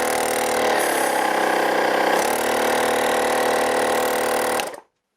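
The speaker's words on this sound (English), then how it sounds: "Compressor on." A Cartrend 10945 12V portable air compressor runs with a steady, loud motor buzz and pumping drone, its pitch shifting slightly before it cuts out abruptly near the end.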